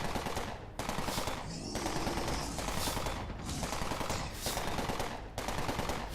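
A BLP weapon firing in the online game Entropia Universe, sustained rapid automatic bursts repeating in a steady rhythm with brief gaps, loud and close, no talking.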